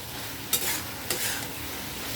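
Green chillies fry in a pan with a steady close sizzle, broken by two brief scraping stirs.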